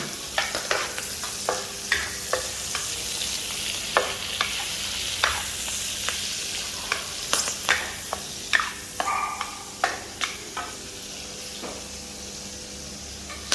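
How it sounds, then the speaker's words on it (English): Chili stir-fried in a pan for sambal belacan kering, with a steady broadband sizzle and repeated sharp scraping clicks of the spatula in an uneven rhythm, close and fairly loud, no talking. "I have to stir fry the chili."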